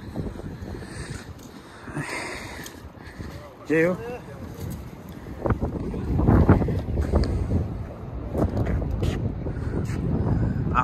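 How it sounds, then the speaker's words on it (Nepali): Wind gusts across Sydney Harbour at Walsh Bay, buffeting the microphone in uneven rumbling bursts that swell louder toward the end, with a person speaking briefly amid the blustery noise. "अलिकति हावा चलेको छ"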